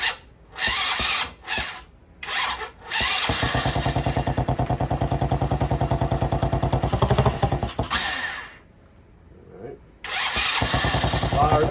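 A small 70cc Chinese quad engine cranks in short bursts, then catches and runs with a rapid putter for several seconds before cutting out, then restarts; a voice speaks briefly.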